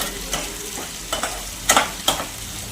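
Onions and curry leaves fry in hot oil, a steady low sizzle broken by a few sharp stirring scrapes and clinks from a spoon in the pan.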